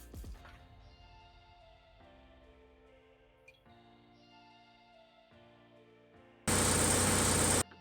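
A heavy machinery engine from a Minecraft mod runs with a steady mechanical drone that shifts pitch in stages, ending with a sudden loud burst of harsh noise.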